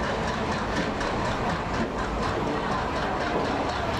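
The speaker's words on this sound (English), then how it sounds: "The wonderful tug increases as the train picks up the speed" An ALCO diesel locomotive train gathers speed leaving a station platform, a steady, loud, broadband rolling rumble with low engine drone and faint rail clatter throughout.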